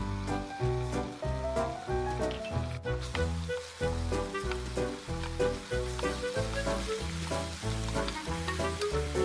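Chicken pieces frying in a pan for kung pao chicken with ginger and garlic, a steady crackling sizzle throughout, punctuated by knocks and scraping of a utensil in a rhythmic pattern.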